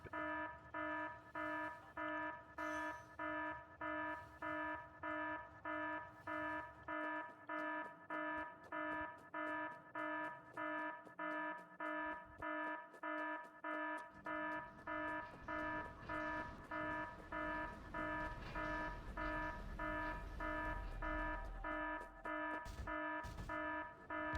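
An alarm in the Factorio video game beeps in a steady, rapid repeating pattern of bright tonal pulses that continues throughout, with other in-game sounds shifting underneath.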